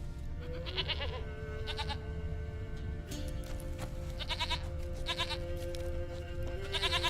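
A goat in The Witcher 3 bleats repeatedly, short wavering cries recurring every second or so over a steady ambient hum and a sustained tonal drone, with no voices.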